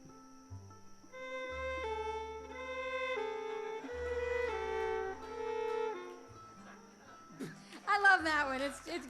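A voice imitating an old-timey French movie ambulance siren, sung as alternating steady pitched tones in a rising-and-falling pattern for several seconds, close and fairly loud, with a brief burst of laughter at the end.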